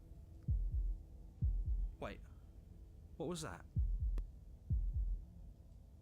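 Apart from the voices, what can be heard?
heartbeat sound effect in a video game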